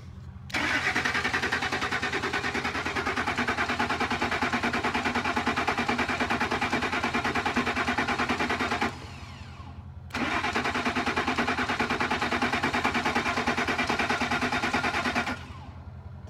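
A Ford F-150 pickup engine cranks without firing in two long bursts of steady starter whir, about eight and five seconds, separated by a short pause, loud and close with no talking.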